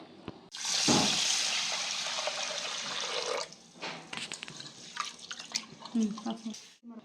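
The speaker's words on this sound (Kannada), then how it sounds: "ಆರು ಕಪ್ಪು ಒಂದು ಸ್ವಲ್ಪ ಆರೂವರೆ ಕಪ್ಪಷ್ಟು ನೀರು ಹಾಕಿದ್ದೀನಿ" Water poured from a cup into rice and moong dal for khara pongal, a gushing splash that trails off into softer trickles and clinks, with a voice talking faintly over it.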